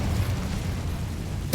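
In the Hogwarts Legacy video game, the Incendio fire spell goes off as a dull, sustained whooshing rumble, loud and near, ending in a sudden sharp burst.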